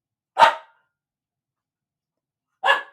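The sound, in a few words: dog barking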